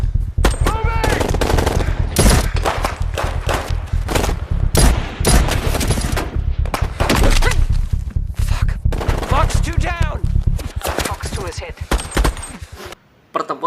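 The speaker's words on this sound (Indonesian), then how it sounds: "Dan adu tembak antar dua kubu pun terjadi." Film gunfight between police and a rival group, with loud, dense bursts of machine-gun fire and rapid gunshots ringing out almost continuously, a few short gaps between volleys.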